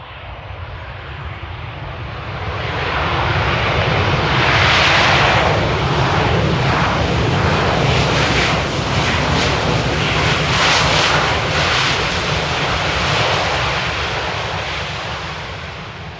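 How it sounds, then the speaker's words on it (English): A Ryanair jet airliner landing at Amsterdam airport on a rainy day, its broad engine roar swelling from a distance, peaking loudly overhead and then slowly fading, with no talking. "Ryanair can land really smooth, so allow me to show you"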